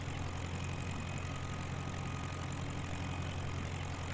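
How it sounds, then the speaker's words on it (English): A tractor engine labouring at its absolute limit while driving an implement, a steady, loud low-pitched drone with a constant rumble and no breaks, running alone throughout. "this tractor is pretty much at its absolute limit as to what it can cope with"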